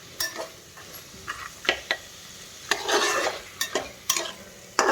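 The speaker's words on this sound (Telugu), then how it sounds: "ఈ అల్లం వెల్లుల్లి పేస్ట్ అంతా ఈ బఠానీలకు బాగా పట్టేటట్లు కలుపుకొని" A spoon stirs peas coated in ginger garlic paste in a cooking pan for a cabbage and pea curry, giving repeated irregular scrapes and clinks with soft sizzling between them, close and with no talking.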